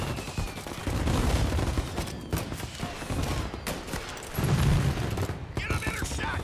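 Repeated gunshots in the video game Mafia Definitive Edition, a loud firefight with overlapping bursts and single cracks throughout, mixed with game effects.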